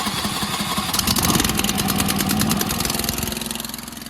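A small engine that has sat unused sputters to life and runs with a rapid, buzzy putter, close and fairly loud, its pace settling and easing off slightly as it warms up.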